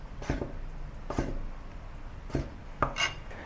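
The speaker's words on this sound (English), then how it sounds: "Button mushrooms into slices." Knife slicing button mushrooms on a board in a home kitchen, four or five soft, brushing cuts at an uneven pace, close and moderately quiet.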